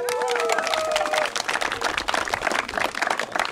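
Crowd applause at a regional sports games event in Cēsu district, Latvia, dense steady clapping with some voices mixed in, fairly loud throughout.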